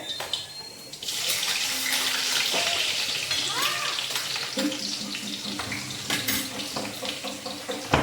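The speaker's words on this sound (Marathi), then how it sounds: "तेल चांगलं गरम झालं आहे, मोहरी जिरं तळतळत आहे. कांदा टाकणार." Onion frying in hot oil with crackling mustard seeds and cumin for a spicy patvadi rassa, a steady loud sizzle with bursts of spattering and a few clinks of a utensil.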